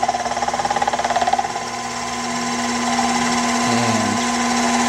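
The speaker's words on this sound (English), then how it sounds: "The CNC mill, or lathe, excuse me, and you see it cuts very nicely." A CNC lathe cuts aluminum stock with a steady mechanical whir and hum, a faint rhythmic pulsing at the start giving way to a smooth continuous tone, with a brief pitch dip near the end.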